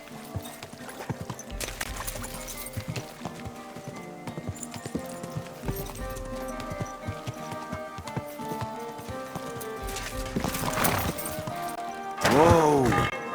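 A horse walks in the medieval game Kingdom Come: Deliverance 2, its hooves clip-clopping in an uneven rhythm over ambient sound, with a neigh near the end.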